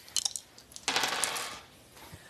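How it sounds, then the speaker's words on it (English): Dice rolled onto a surface, with a quick cluster of clattering taps followed by a longer rattling tumble that fades out. "Let's hope we can roll some dice."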